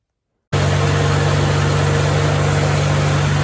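A 1949 Farmall H tractor engine starts after a brief silence and then runs steadily, a loud, close, even low-pitched chugging drone that continues unbroken to the end.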